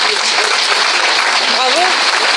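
Brief, dense applause at a karate grade ceremony, steady clapping filling the moment with a voice speaking faintly underneath.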